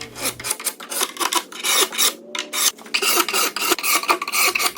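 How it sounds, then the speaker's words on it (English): A carbide scraper rasps across orange-stained wooden furniture finish in repeated close, harsh strokes with brief pauses between them. "Using a carbide scraper or a wood scraper can be satisfying."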